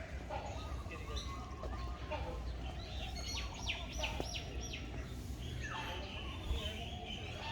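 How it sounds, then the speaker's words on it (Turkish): Birds chirp and sing in scattered bright calls over a steady background hiss in a bird garden at Taman Mini park, Jakarta, with a person speaking at times. "Tabii ki acayip çok güzel kuş sesleri her tarafta"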